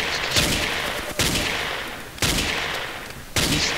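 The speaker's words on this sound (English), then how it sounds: "I'm gonna shoot from this window at these people." Gunfire in Ace of Spades, shots fired from a window: four loud, sharp bursts spaced about a second apart, each a crack trailing into a decaying rumble, close and alone with no talk.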